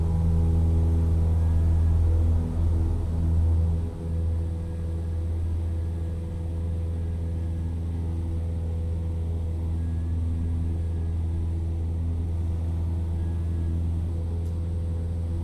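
Steady drone of a Cessna 172 engine at full power in a VR flight simulator, a loud harmonic propeller hum with strong low tones, slightly louder at first, then settling into a constant roar.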